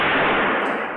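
A SWAT team blasts down a hotel room door, a single deafening explosion that fills the clip with dense broadband noise, loud and close, fading slightly toward the end.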